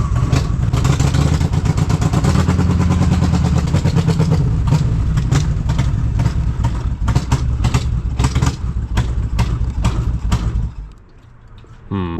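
A Harley-Davidson motorcycle engine running rich, loud and close, its lumpy firing pulses rumbling steadily before easing off, then dropping sharply near the end with a brief lull and a pickup again.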